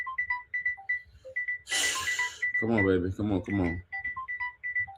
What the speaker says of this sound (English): Let me get this damn alarm off my other phone